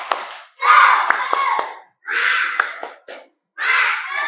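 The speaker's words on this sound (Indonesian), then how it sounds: "marilah kita sama-sama untuk tepuk semangat dulu." Classroom of primary school pupils doing a rhythmic clapping chant led by their teacher, with sharp claps among loud group chanting in three bursts separated by short pauses.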